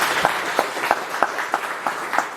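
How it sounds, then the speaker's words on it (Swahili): A church congregation claps at a welcome service for a canon, with a soft applause bed and sharper claps landing in a loose, steady rhythm, moderately loud and close. "Situmpigie makofi."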